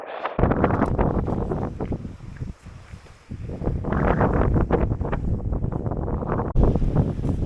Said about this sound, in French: je sais pas qu'est-ce que ça va donner avec le vent